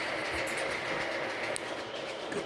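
A model train runs along the track of a layout near a station, making a steady close rumble with faint rhythmic clicking from the wheels throughout.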